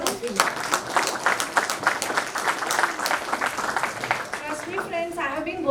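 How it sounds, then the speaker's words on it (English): Applause from an audience of stall holders at a startup event's closing ceremony, a dense, steady patter of many hands clapping for several seconds, with faint voices mixed in near the end. "a big round of applause for each one of you who have put a stall here"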